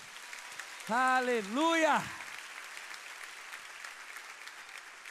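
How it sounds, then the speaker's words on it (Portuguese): Steady applause runs throughout, with a voice calling out loudly over it for about a second near the start. "Você pode aplaudir o Senhor por isso?"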